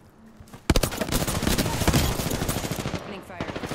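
Video game gunfire: after a brief quiet lead-in, sudden loud bursts of rapid automatic fire break out and keep going in dense rattling volleys, thinning a little toward the end.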